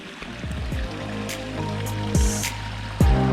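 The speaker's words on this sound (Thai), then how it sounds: "นี่ครับน้ำไหลครับ" Water trickling and flowing in a small stream by rice fields just after rain, with gurgles and occasional splashy bursts over a steady wash.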